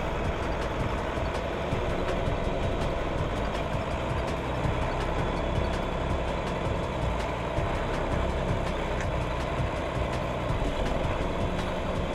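A tractor works a farm field, its steady engine drone running unbroken and loud throughout with no pauses.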